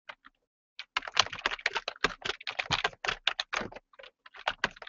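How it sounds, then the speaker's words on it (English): Rapid clatter of typing on a computer keyboard, bursts of keystrokes in quick irregular runs with brief pauses, close and fairly quiet, no voices. "I'm typing to you right now"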